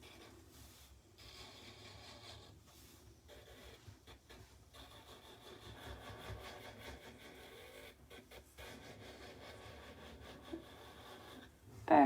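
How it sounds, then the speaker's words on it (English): A faint, steady mechanical whir of a small nail drill on low speed filing a nail under dip powder, with soft rasping passes and brief pauses, quiet and close. "your drill just needs to be on low and you don't need to press hard"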